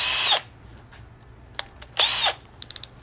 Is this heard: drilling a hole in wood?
yes